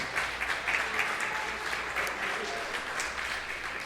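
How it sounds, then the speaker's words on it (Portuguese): A church congregation claps together in steady, dense applause that fills the room, with a few voices mixed in beneath the clapping. "Aplauda ao Senhor Jesus."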